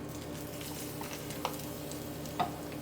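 Biryani masala being stirred into a gravy in a pot, with a steady soft scraping and bubbling texture and a couple of brief louder knocks from the spoon, close and alone.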